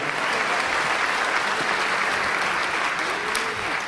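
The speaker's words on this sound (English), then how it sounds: "give them one round of applause" Theatre audience applauds the Limerick Musical Society, a dense continuous roar of clapping filling the whole stretch at close range.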